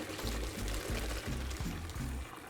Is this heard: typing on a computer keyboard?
no